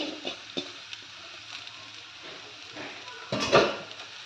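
Leftover rice tipped into a pan for egg fried rice and stirred, giving a few scattered spoon-on-pan clinks over a low background, then a louder scraping, shuffling burst near the end.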